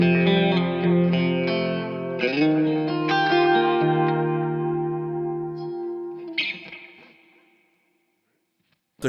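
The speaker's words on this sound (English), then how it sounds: "Now here's just chorus, delay, and reverb without the drive." Clean electric guitar notes and a strummed chord through a Bad Cat Hot Cat 45W EL34 tube amp head and 2x12 cabinet shimmer with chorus, trailing echoes and a long reverb tail that slowly fades to near silence.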